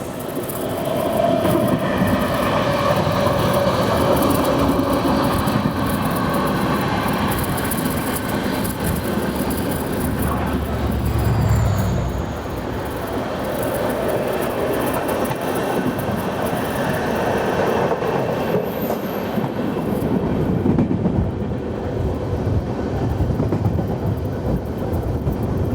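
The Yesvantpur express passes at a crossing, heard from aboard a moving train as a loud, steady rumble and rattle of rail cars that continues without a break.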